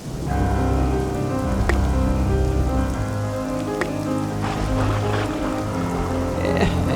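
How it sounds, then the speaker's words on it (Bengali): Heavy rain pours steadily in an animated Bengali folk-tale scene, a dense, loud, unbroken hiss of drops lasting throughout, with a few sharper splashes and no clear thunder. "আকাশ ঝাঁপিয়ে এলো বৃষ্টি"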